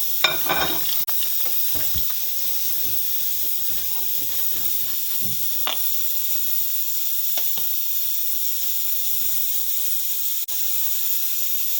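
Snails tipped into a cooking pot set off a steady, bright hiss and sizzle with scattered small clicks and clatters, continuous and fairly loud with no talking.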